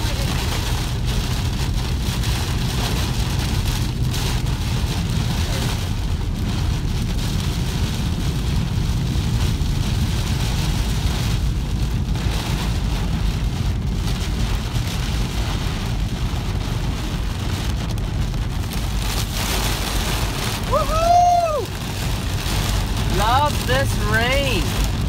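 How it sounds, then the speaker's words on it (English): Heavy rain pours on a vehicle driving toward a storm near farmland, a dense steady hiss and patter throughout, loud and close, with faint voices under it. "This rain."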